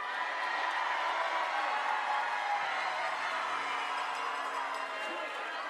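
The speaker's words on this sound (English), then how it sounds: "give us the loudest cheers you've got" An audience cheers at a Miss USA preliminary competition, a dense, steady crowd roar that holds loud for the whole stretch.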